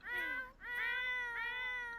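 Cat meowing in the video game The Sims 4, three drawn-out, clear meows in a row, close and fairly loud with short gaps between them.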